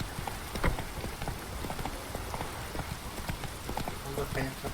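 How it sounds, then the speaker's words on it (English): Hooves of the horse Roach clattering on a town street in The Witcher 3, a steady quick clip-clop under a rain-like hiss, with someone talking over it. "Надо, конечно, по этим улицам на лошади скакать."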